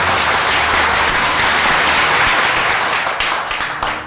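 A crowd applauds a political speech with a loud, dense wash of clapping that runs steadily and then thins out slightly toward the end, with no voices over it.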